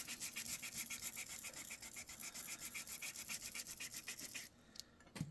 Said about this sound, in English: I'm just going to take my sandpaper and I am just going to rough up the edge here